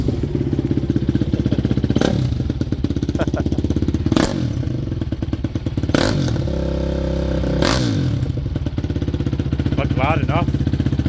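A 2006 Honda CRF 250x dirt bike runs after a cold start with the choke off, giving a steady, close, throbbing idle with brief blips of throttle while people talk over it.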